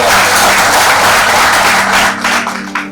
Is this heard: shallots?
no